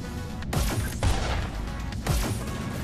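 Gunfire from a gun in the VR shooter Hyper Dash, a few heavy, booming shots spaced about half a second to a second apart, loud and close.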